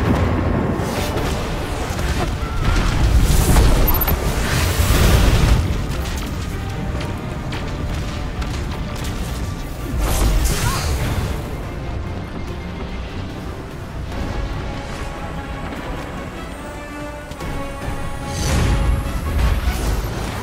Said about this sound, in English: Missiles! Stay inside my shield!